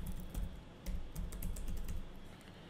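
Quick, light clicking of keys on a computer keyboard, typed in a brisk continuous run with short pauses, close and soft under a low background hum.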